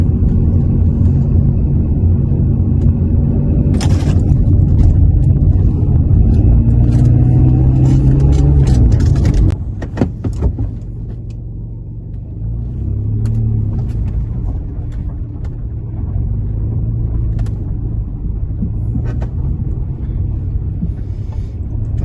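A car drives steadily, its engine rumbling loud and close throughout, with a brief shift in tone partway through as it changes pace; no one talks.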